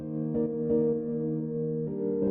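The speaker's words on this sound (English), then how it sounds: "I used this piano that I made" Self-made synthesized piano sound in a music production remix: sustained, mellow chords with steady harmonic tones, changing twice, moderately loud and alone without vocals.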